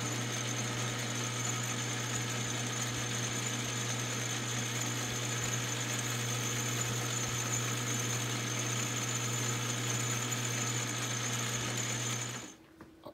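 A milling machine cuts a rubber hockey puck with a steady, close mechanical hum and whine that holds evenly for about twelve seconds, then stops abruptly.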